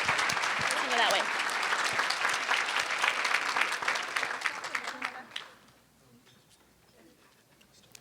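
A luncheon audience applauds loudly and steadily for about five seconds before the clapping stops abruptly, leaving a quiet room.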